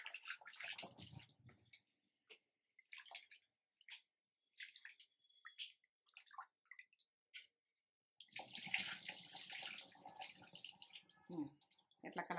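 Rice being rinsed in water while preparing temple-style pulihora; speech in the first part gives way to about four seconds of steady sloshing and swirling water near the end.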